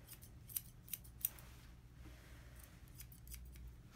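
Grooming scissors snip through a Yorkie's coat in three quick, crisp cuts close by, then fall quiet over a low room hum.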